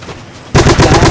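Loud, close burst of rapid machine gun fire in a World War II shooter video game, cutting in suddenly halfway through and hammering steadily to the end.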